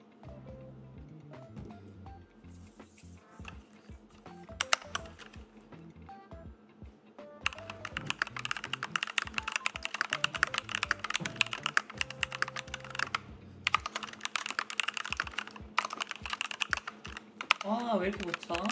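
Rapid typing on a full-profile computer keyboard, quiet at first and then a loud, dense clatter of keystrokes under faint background music and occasional speech.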